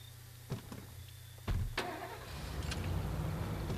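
A car engine in the video game State of Decay cranks and catches with a sharp start, then settles into a low, steady idle rumble following a couple of door or mechanical clicks.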